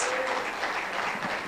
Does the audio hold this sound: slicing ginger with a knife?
no